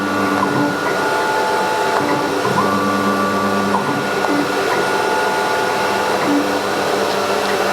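An S series CNC router runs with a loud, steady mechanical whine and hum, joined by shifting tonal motor pitches, continuous throughout with no talking.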